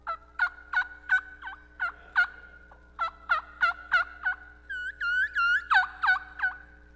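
A person imitates a turkey gobble, rapid bursts of warbling calls in quick series with short pauses between, loud and close.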